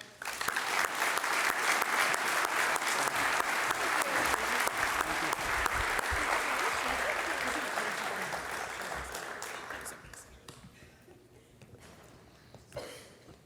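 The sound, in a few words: audience applause for award recipients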